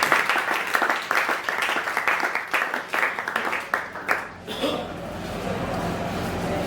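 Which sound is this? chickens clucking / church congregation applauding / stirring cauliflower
church congregation applauding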